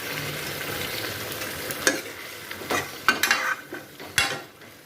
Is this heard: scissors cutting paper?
no